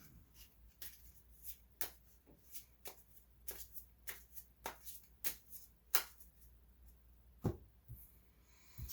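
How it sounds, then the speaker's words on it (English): Cards for the Stilicho board game are shuffled by hand in quiet, close, irregular riffles and taps, with about a dozen soft bursts over several seconds. "then we do a shuffle action. Shuffle it."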